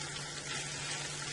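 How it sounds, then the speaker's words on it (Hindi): Mutton haleem fries in a pot with a steady, close sizzle, a continuous hiss and crackle with a low hum underneath. No one talks. "इसको तकरीबन मैं 5 से 10 मिनट तक ज़रा भून लेती हूँ।"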